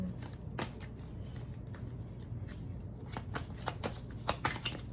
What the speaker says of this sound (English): I have to shuffle to get the most accurate.